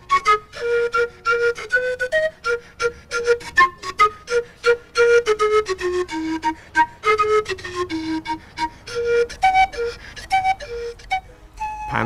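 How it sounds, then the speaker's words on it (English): Breathy panpipes play a lively melody of short, quick notes with some gliding pitches, heard alone and fairly close. "Panpipes in South America, one of the sounds you can hear in Breakaway at 9:30."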